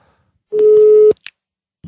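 A telephone call tone plays while someone is being dialed: one steady, loud beep of about half a second, then a few faint clicks and near silence.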